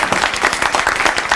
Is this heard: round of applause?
yes